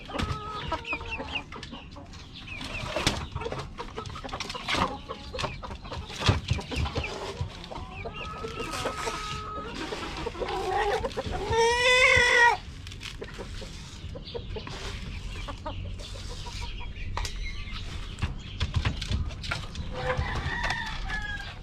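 Chickens cluck and squawk throughout in their coop, close by and busy, with a rooster crowing loudly near the middle amid scattered scratching and rustling.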